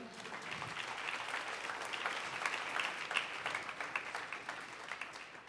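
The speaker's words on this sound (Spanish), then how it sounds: "Le damos un aplauso al Señor" Steady applause from a church congregation, a dense wash of clapping that holds evenly throughout without any voices standing out.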